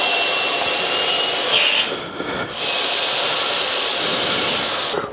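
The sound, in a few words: air compressor seating and inflating a tubeless bicycle tyre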